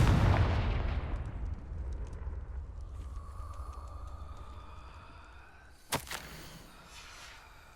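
A Confringo blasting spell explodes in a video game: a heavy low boom that rumbles and decays over several seconds, then a sharp crack near the six-second mark with a short tail, with no talk over it.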